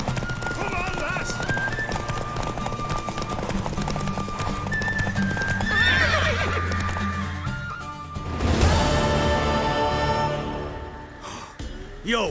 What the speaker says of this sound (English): Want that horse, don't ya?